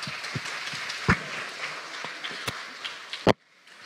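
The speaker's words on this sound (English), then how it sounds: "Round of applause, please." A faint, sparse round of applause from a Cambridge Union hustings audience, a few seconds of scattered clapping with some sharper claps that cuts off abruptly.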